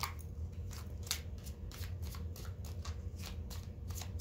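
Tarot cards are shuffled up close in a steady, rapid riffling rhythm that runs without a break, soft and papery, with no talking over it.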